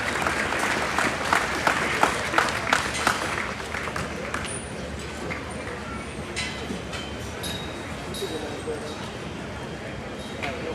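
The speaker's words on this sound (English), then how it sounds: "a round of applause to all of our swine children" An audience at a livestock show applauds the swine exhibitors with steady, moderately loud clapping. A few sharper claps stand out early, and crowd murmur and an announcer's voice can be heard over the applause.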